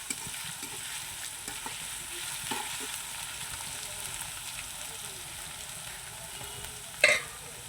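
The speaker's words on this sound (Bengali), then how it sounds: "রসুনটা একটু ভেজে নেব।" Garlic paste and onions sizzle softly in a pan, a faint steady frying hiss with occasional light stirring scrapes and a sharper clatter near the end, with no voices.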